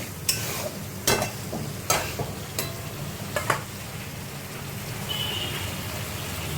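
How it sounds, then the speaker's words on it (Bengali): Spice paste fries in oil with a continuous soft sizzle, broken by several sharp clinks of a spoon against the pan, close and moderately loud. "মশলা ভাজা হয়ে গেছে"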